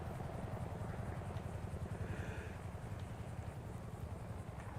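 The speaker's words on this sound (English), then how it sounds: "I hear a chopper." An EMS helicopter in the Redline RP video game whirs with a steady rotor chop that runs unbroken throughout, filling the scene at moderate volume with no voices over it.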